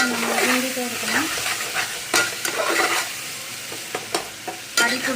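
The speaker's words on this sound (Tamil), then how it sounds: "நடுவில் நடுவில் அந்த மாதிரி கிண்டிகிட்டே இருக்கணும்." A spoon stirs egg curry in a pan, scraping and clinking in a close, loud pass, then several sharp clacks over a soft sizzle from the pan, with no talk.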